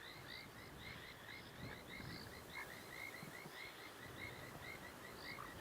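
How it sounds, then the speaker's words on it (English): Painted reed frogs give a steady chorus of short, bright peeping calls repeating rapidly from many animals at once, with low croaking and dense nighttime background noise beneath, no voices. "Painted reed frogs."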